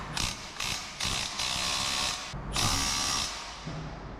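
An impact driver fitted with a 9/16 socket hammers in several loud, close bursts while fastening hardware on a large garage door, with short pauses between the runs.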